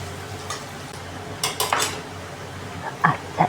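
Metal pots and utensils clink and scrape as fried onions are moved into a dish holding fried shrimp, with a cluster of knocks in the middle and a few sharp clanks at the end over a faint background hum.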